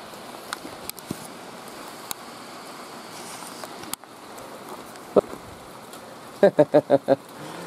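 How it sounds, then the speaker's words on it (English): Steady soft hiss of light rain falling outdoors, with a few scattered knocks and a quick run of low thuds near the end. "here comes the rain"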